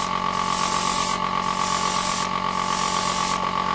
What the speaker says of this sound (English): So respraying styrene, going in very thin light coats.